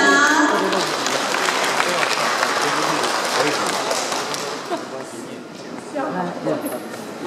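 A crowd at a press conference for a reading-contest award claps to welcome the county magistrate. The applause starts loud and broad, then slowly fades while people talk.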